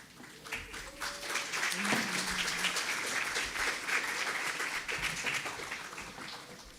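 Audience applause after panel members are introduced at an Emancipation anniversary panel discussion: steady, fairly faint clapping from a crowd lasting several seconds, with voices faintly underneath.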